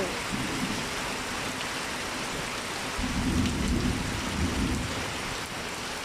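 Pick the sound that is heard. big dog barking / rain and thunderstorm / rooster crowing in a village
rain and thunderstorm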